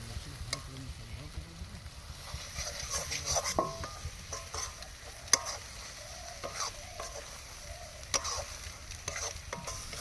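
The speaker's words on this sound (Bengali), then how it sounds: "নাড়তে থাকবো আমরা ভালোভাবে মশলাগুলো ফ্লেভার ছাড়বে তেল ছাড়বে" Spices and chicken curry masala fry in oil, stirred continuously with a spatula scraping the pot; a soft, steady sizzle sits under occasional metallic clinks, close and moderately quiet.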